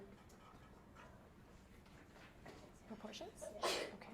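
A sneeze in a classroom, a sharp broadband burst near the end following a teacher's talk, with a quiet murmur of room noise beneath.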